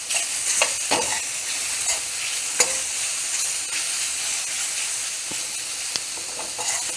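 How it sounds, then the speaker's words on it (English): Pasta with mushrooms and power greens is stirred in a hot pan, giving a continuous sizzling hiss broken by scattered clicks and scrapes of the utensil against the pan. "you're just gonna add the mushrooms, then the power greens, and mix with the pasta"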